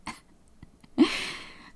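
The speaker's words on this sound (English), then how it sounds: "hang on, I'm coughing." A single close, sharp cough bursts out after a brief quiet moment with a small throat sound, then trails off into a breathy exhale.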